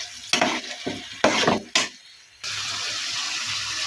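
Chicken for biryani is stirred into freshly fried masala in a pan: scraping stir strokes come in bursts over sizzling, then a loud steady frying hiss takes over, close up with no talk.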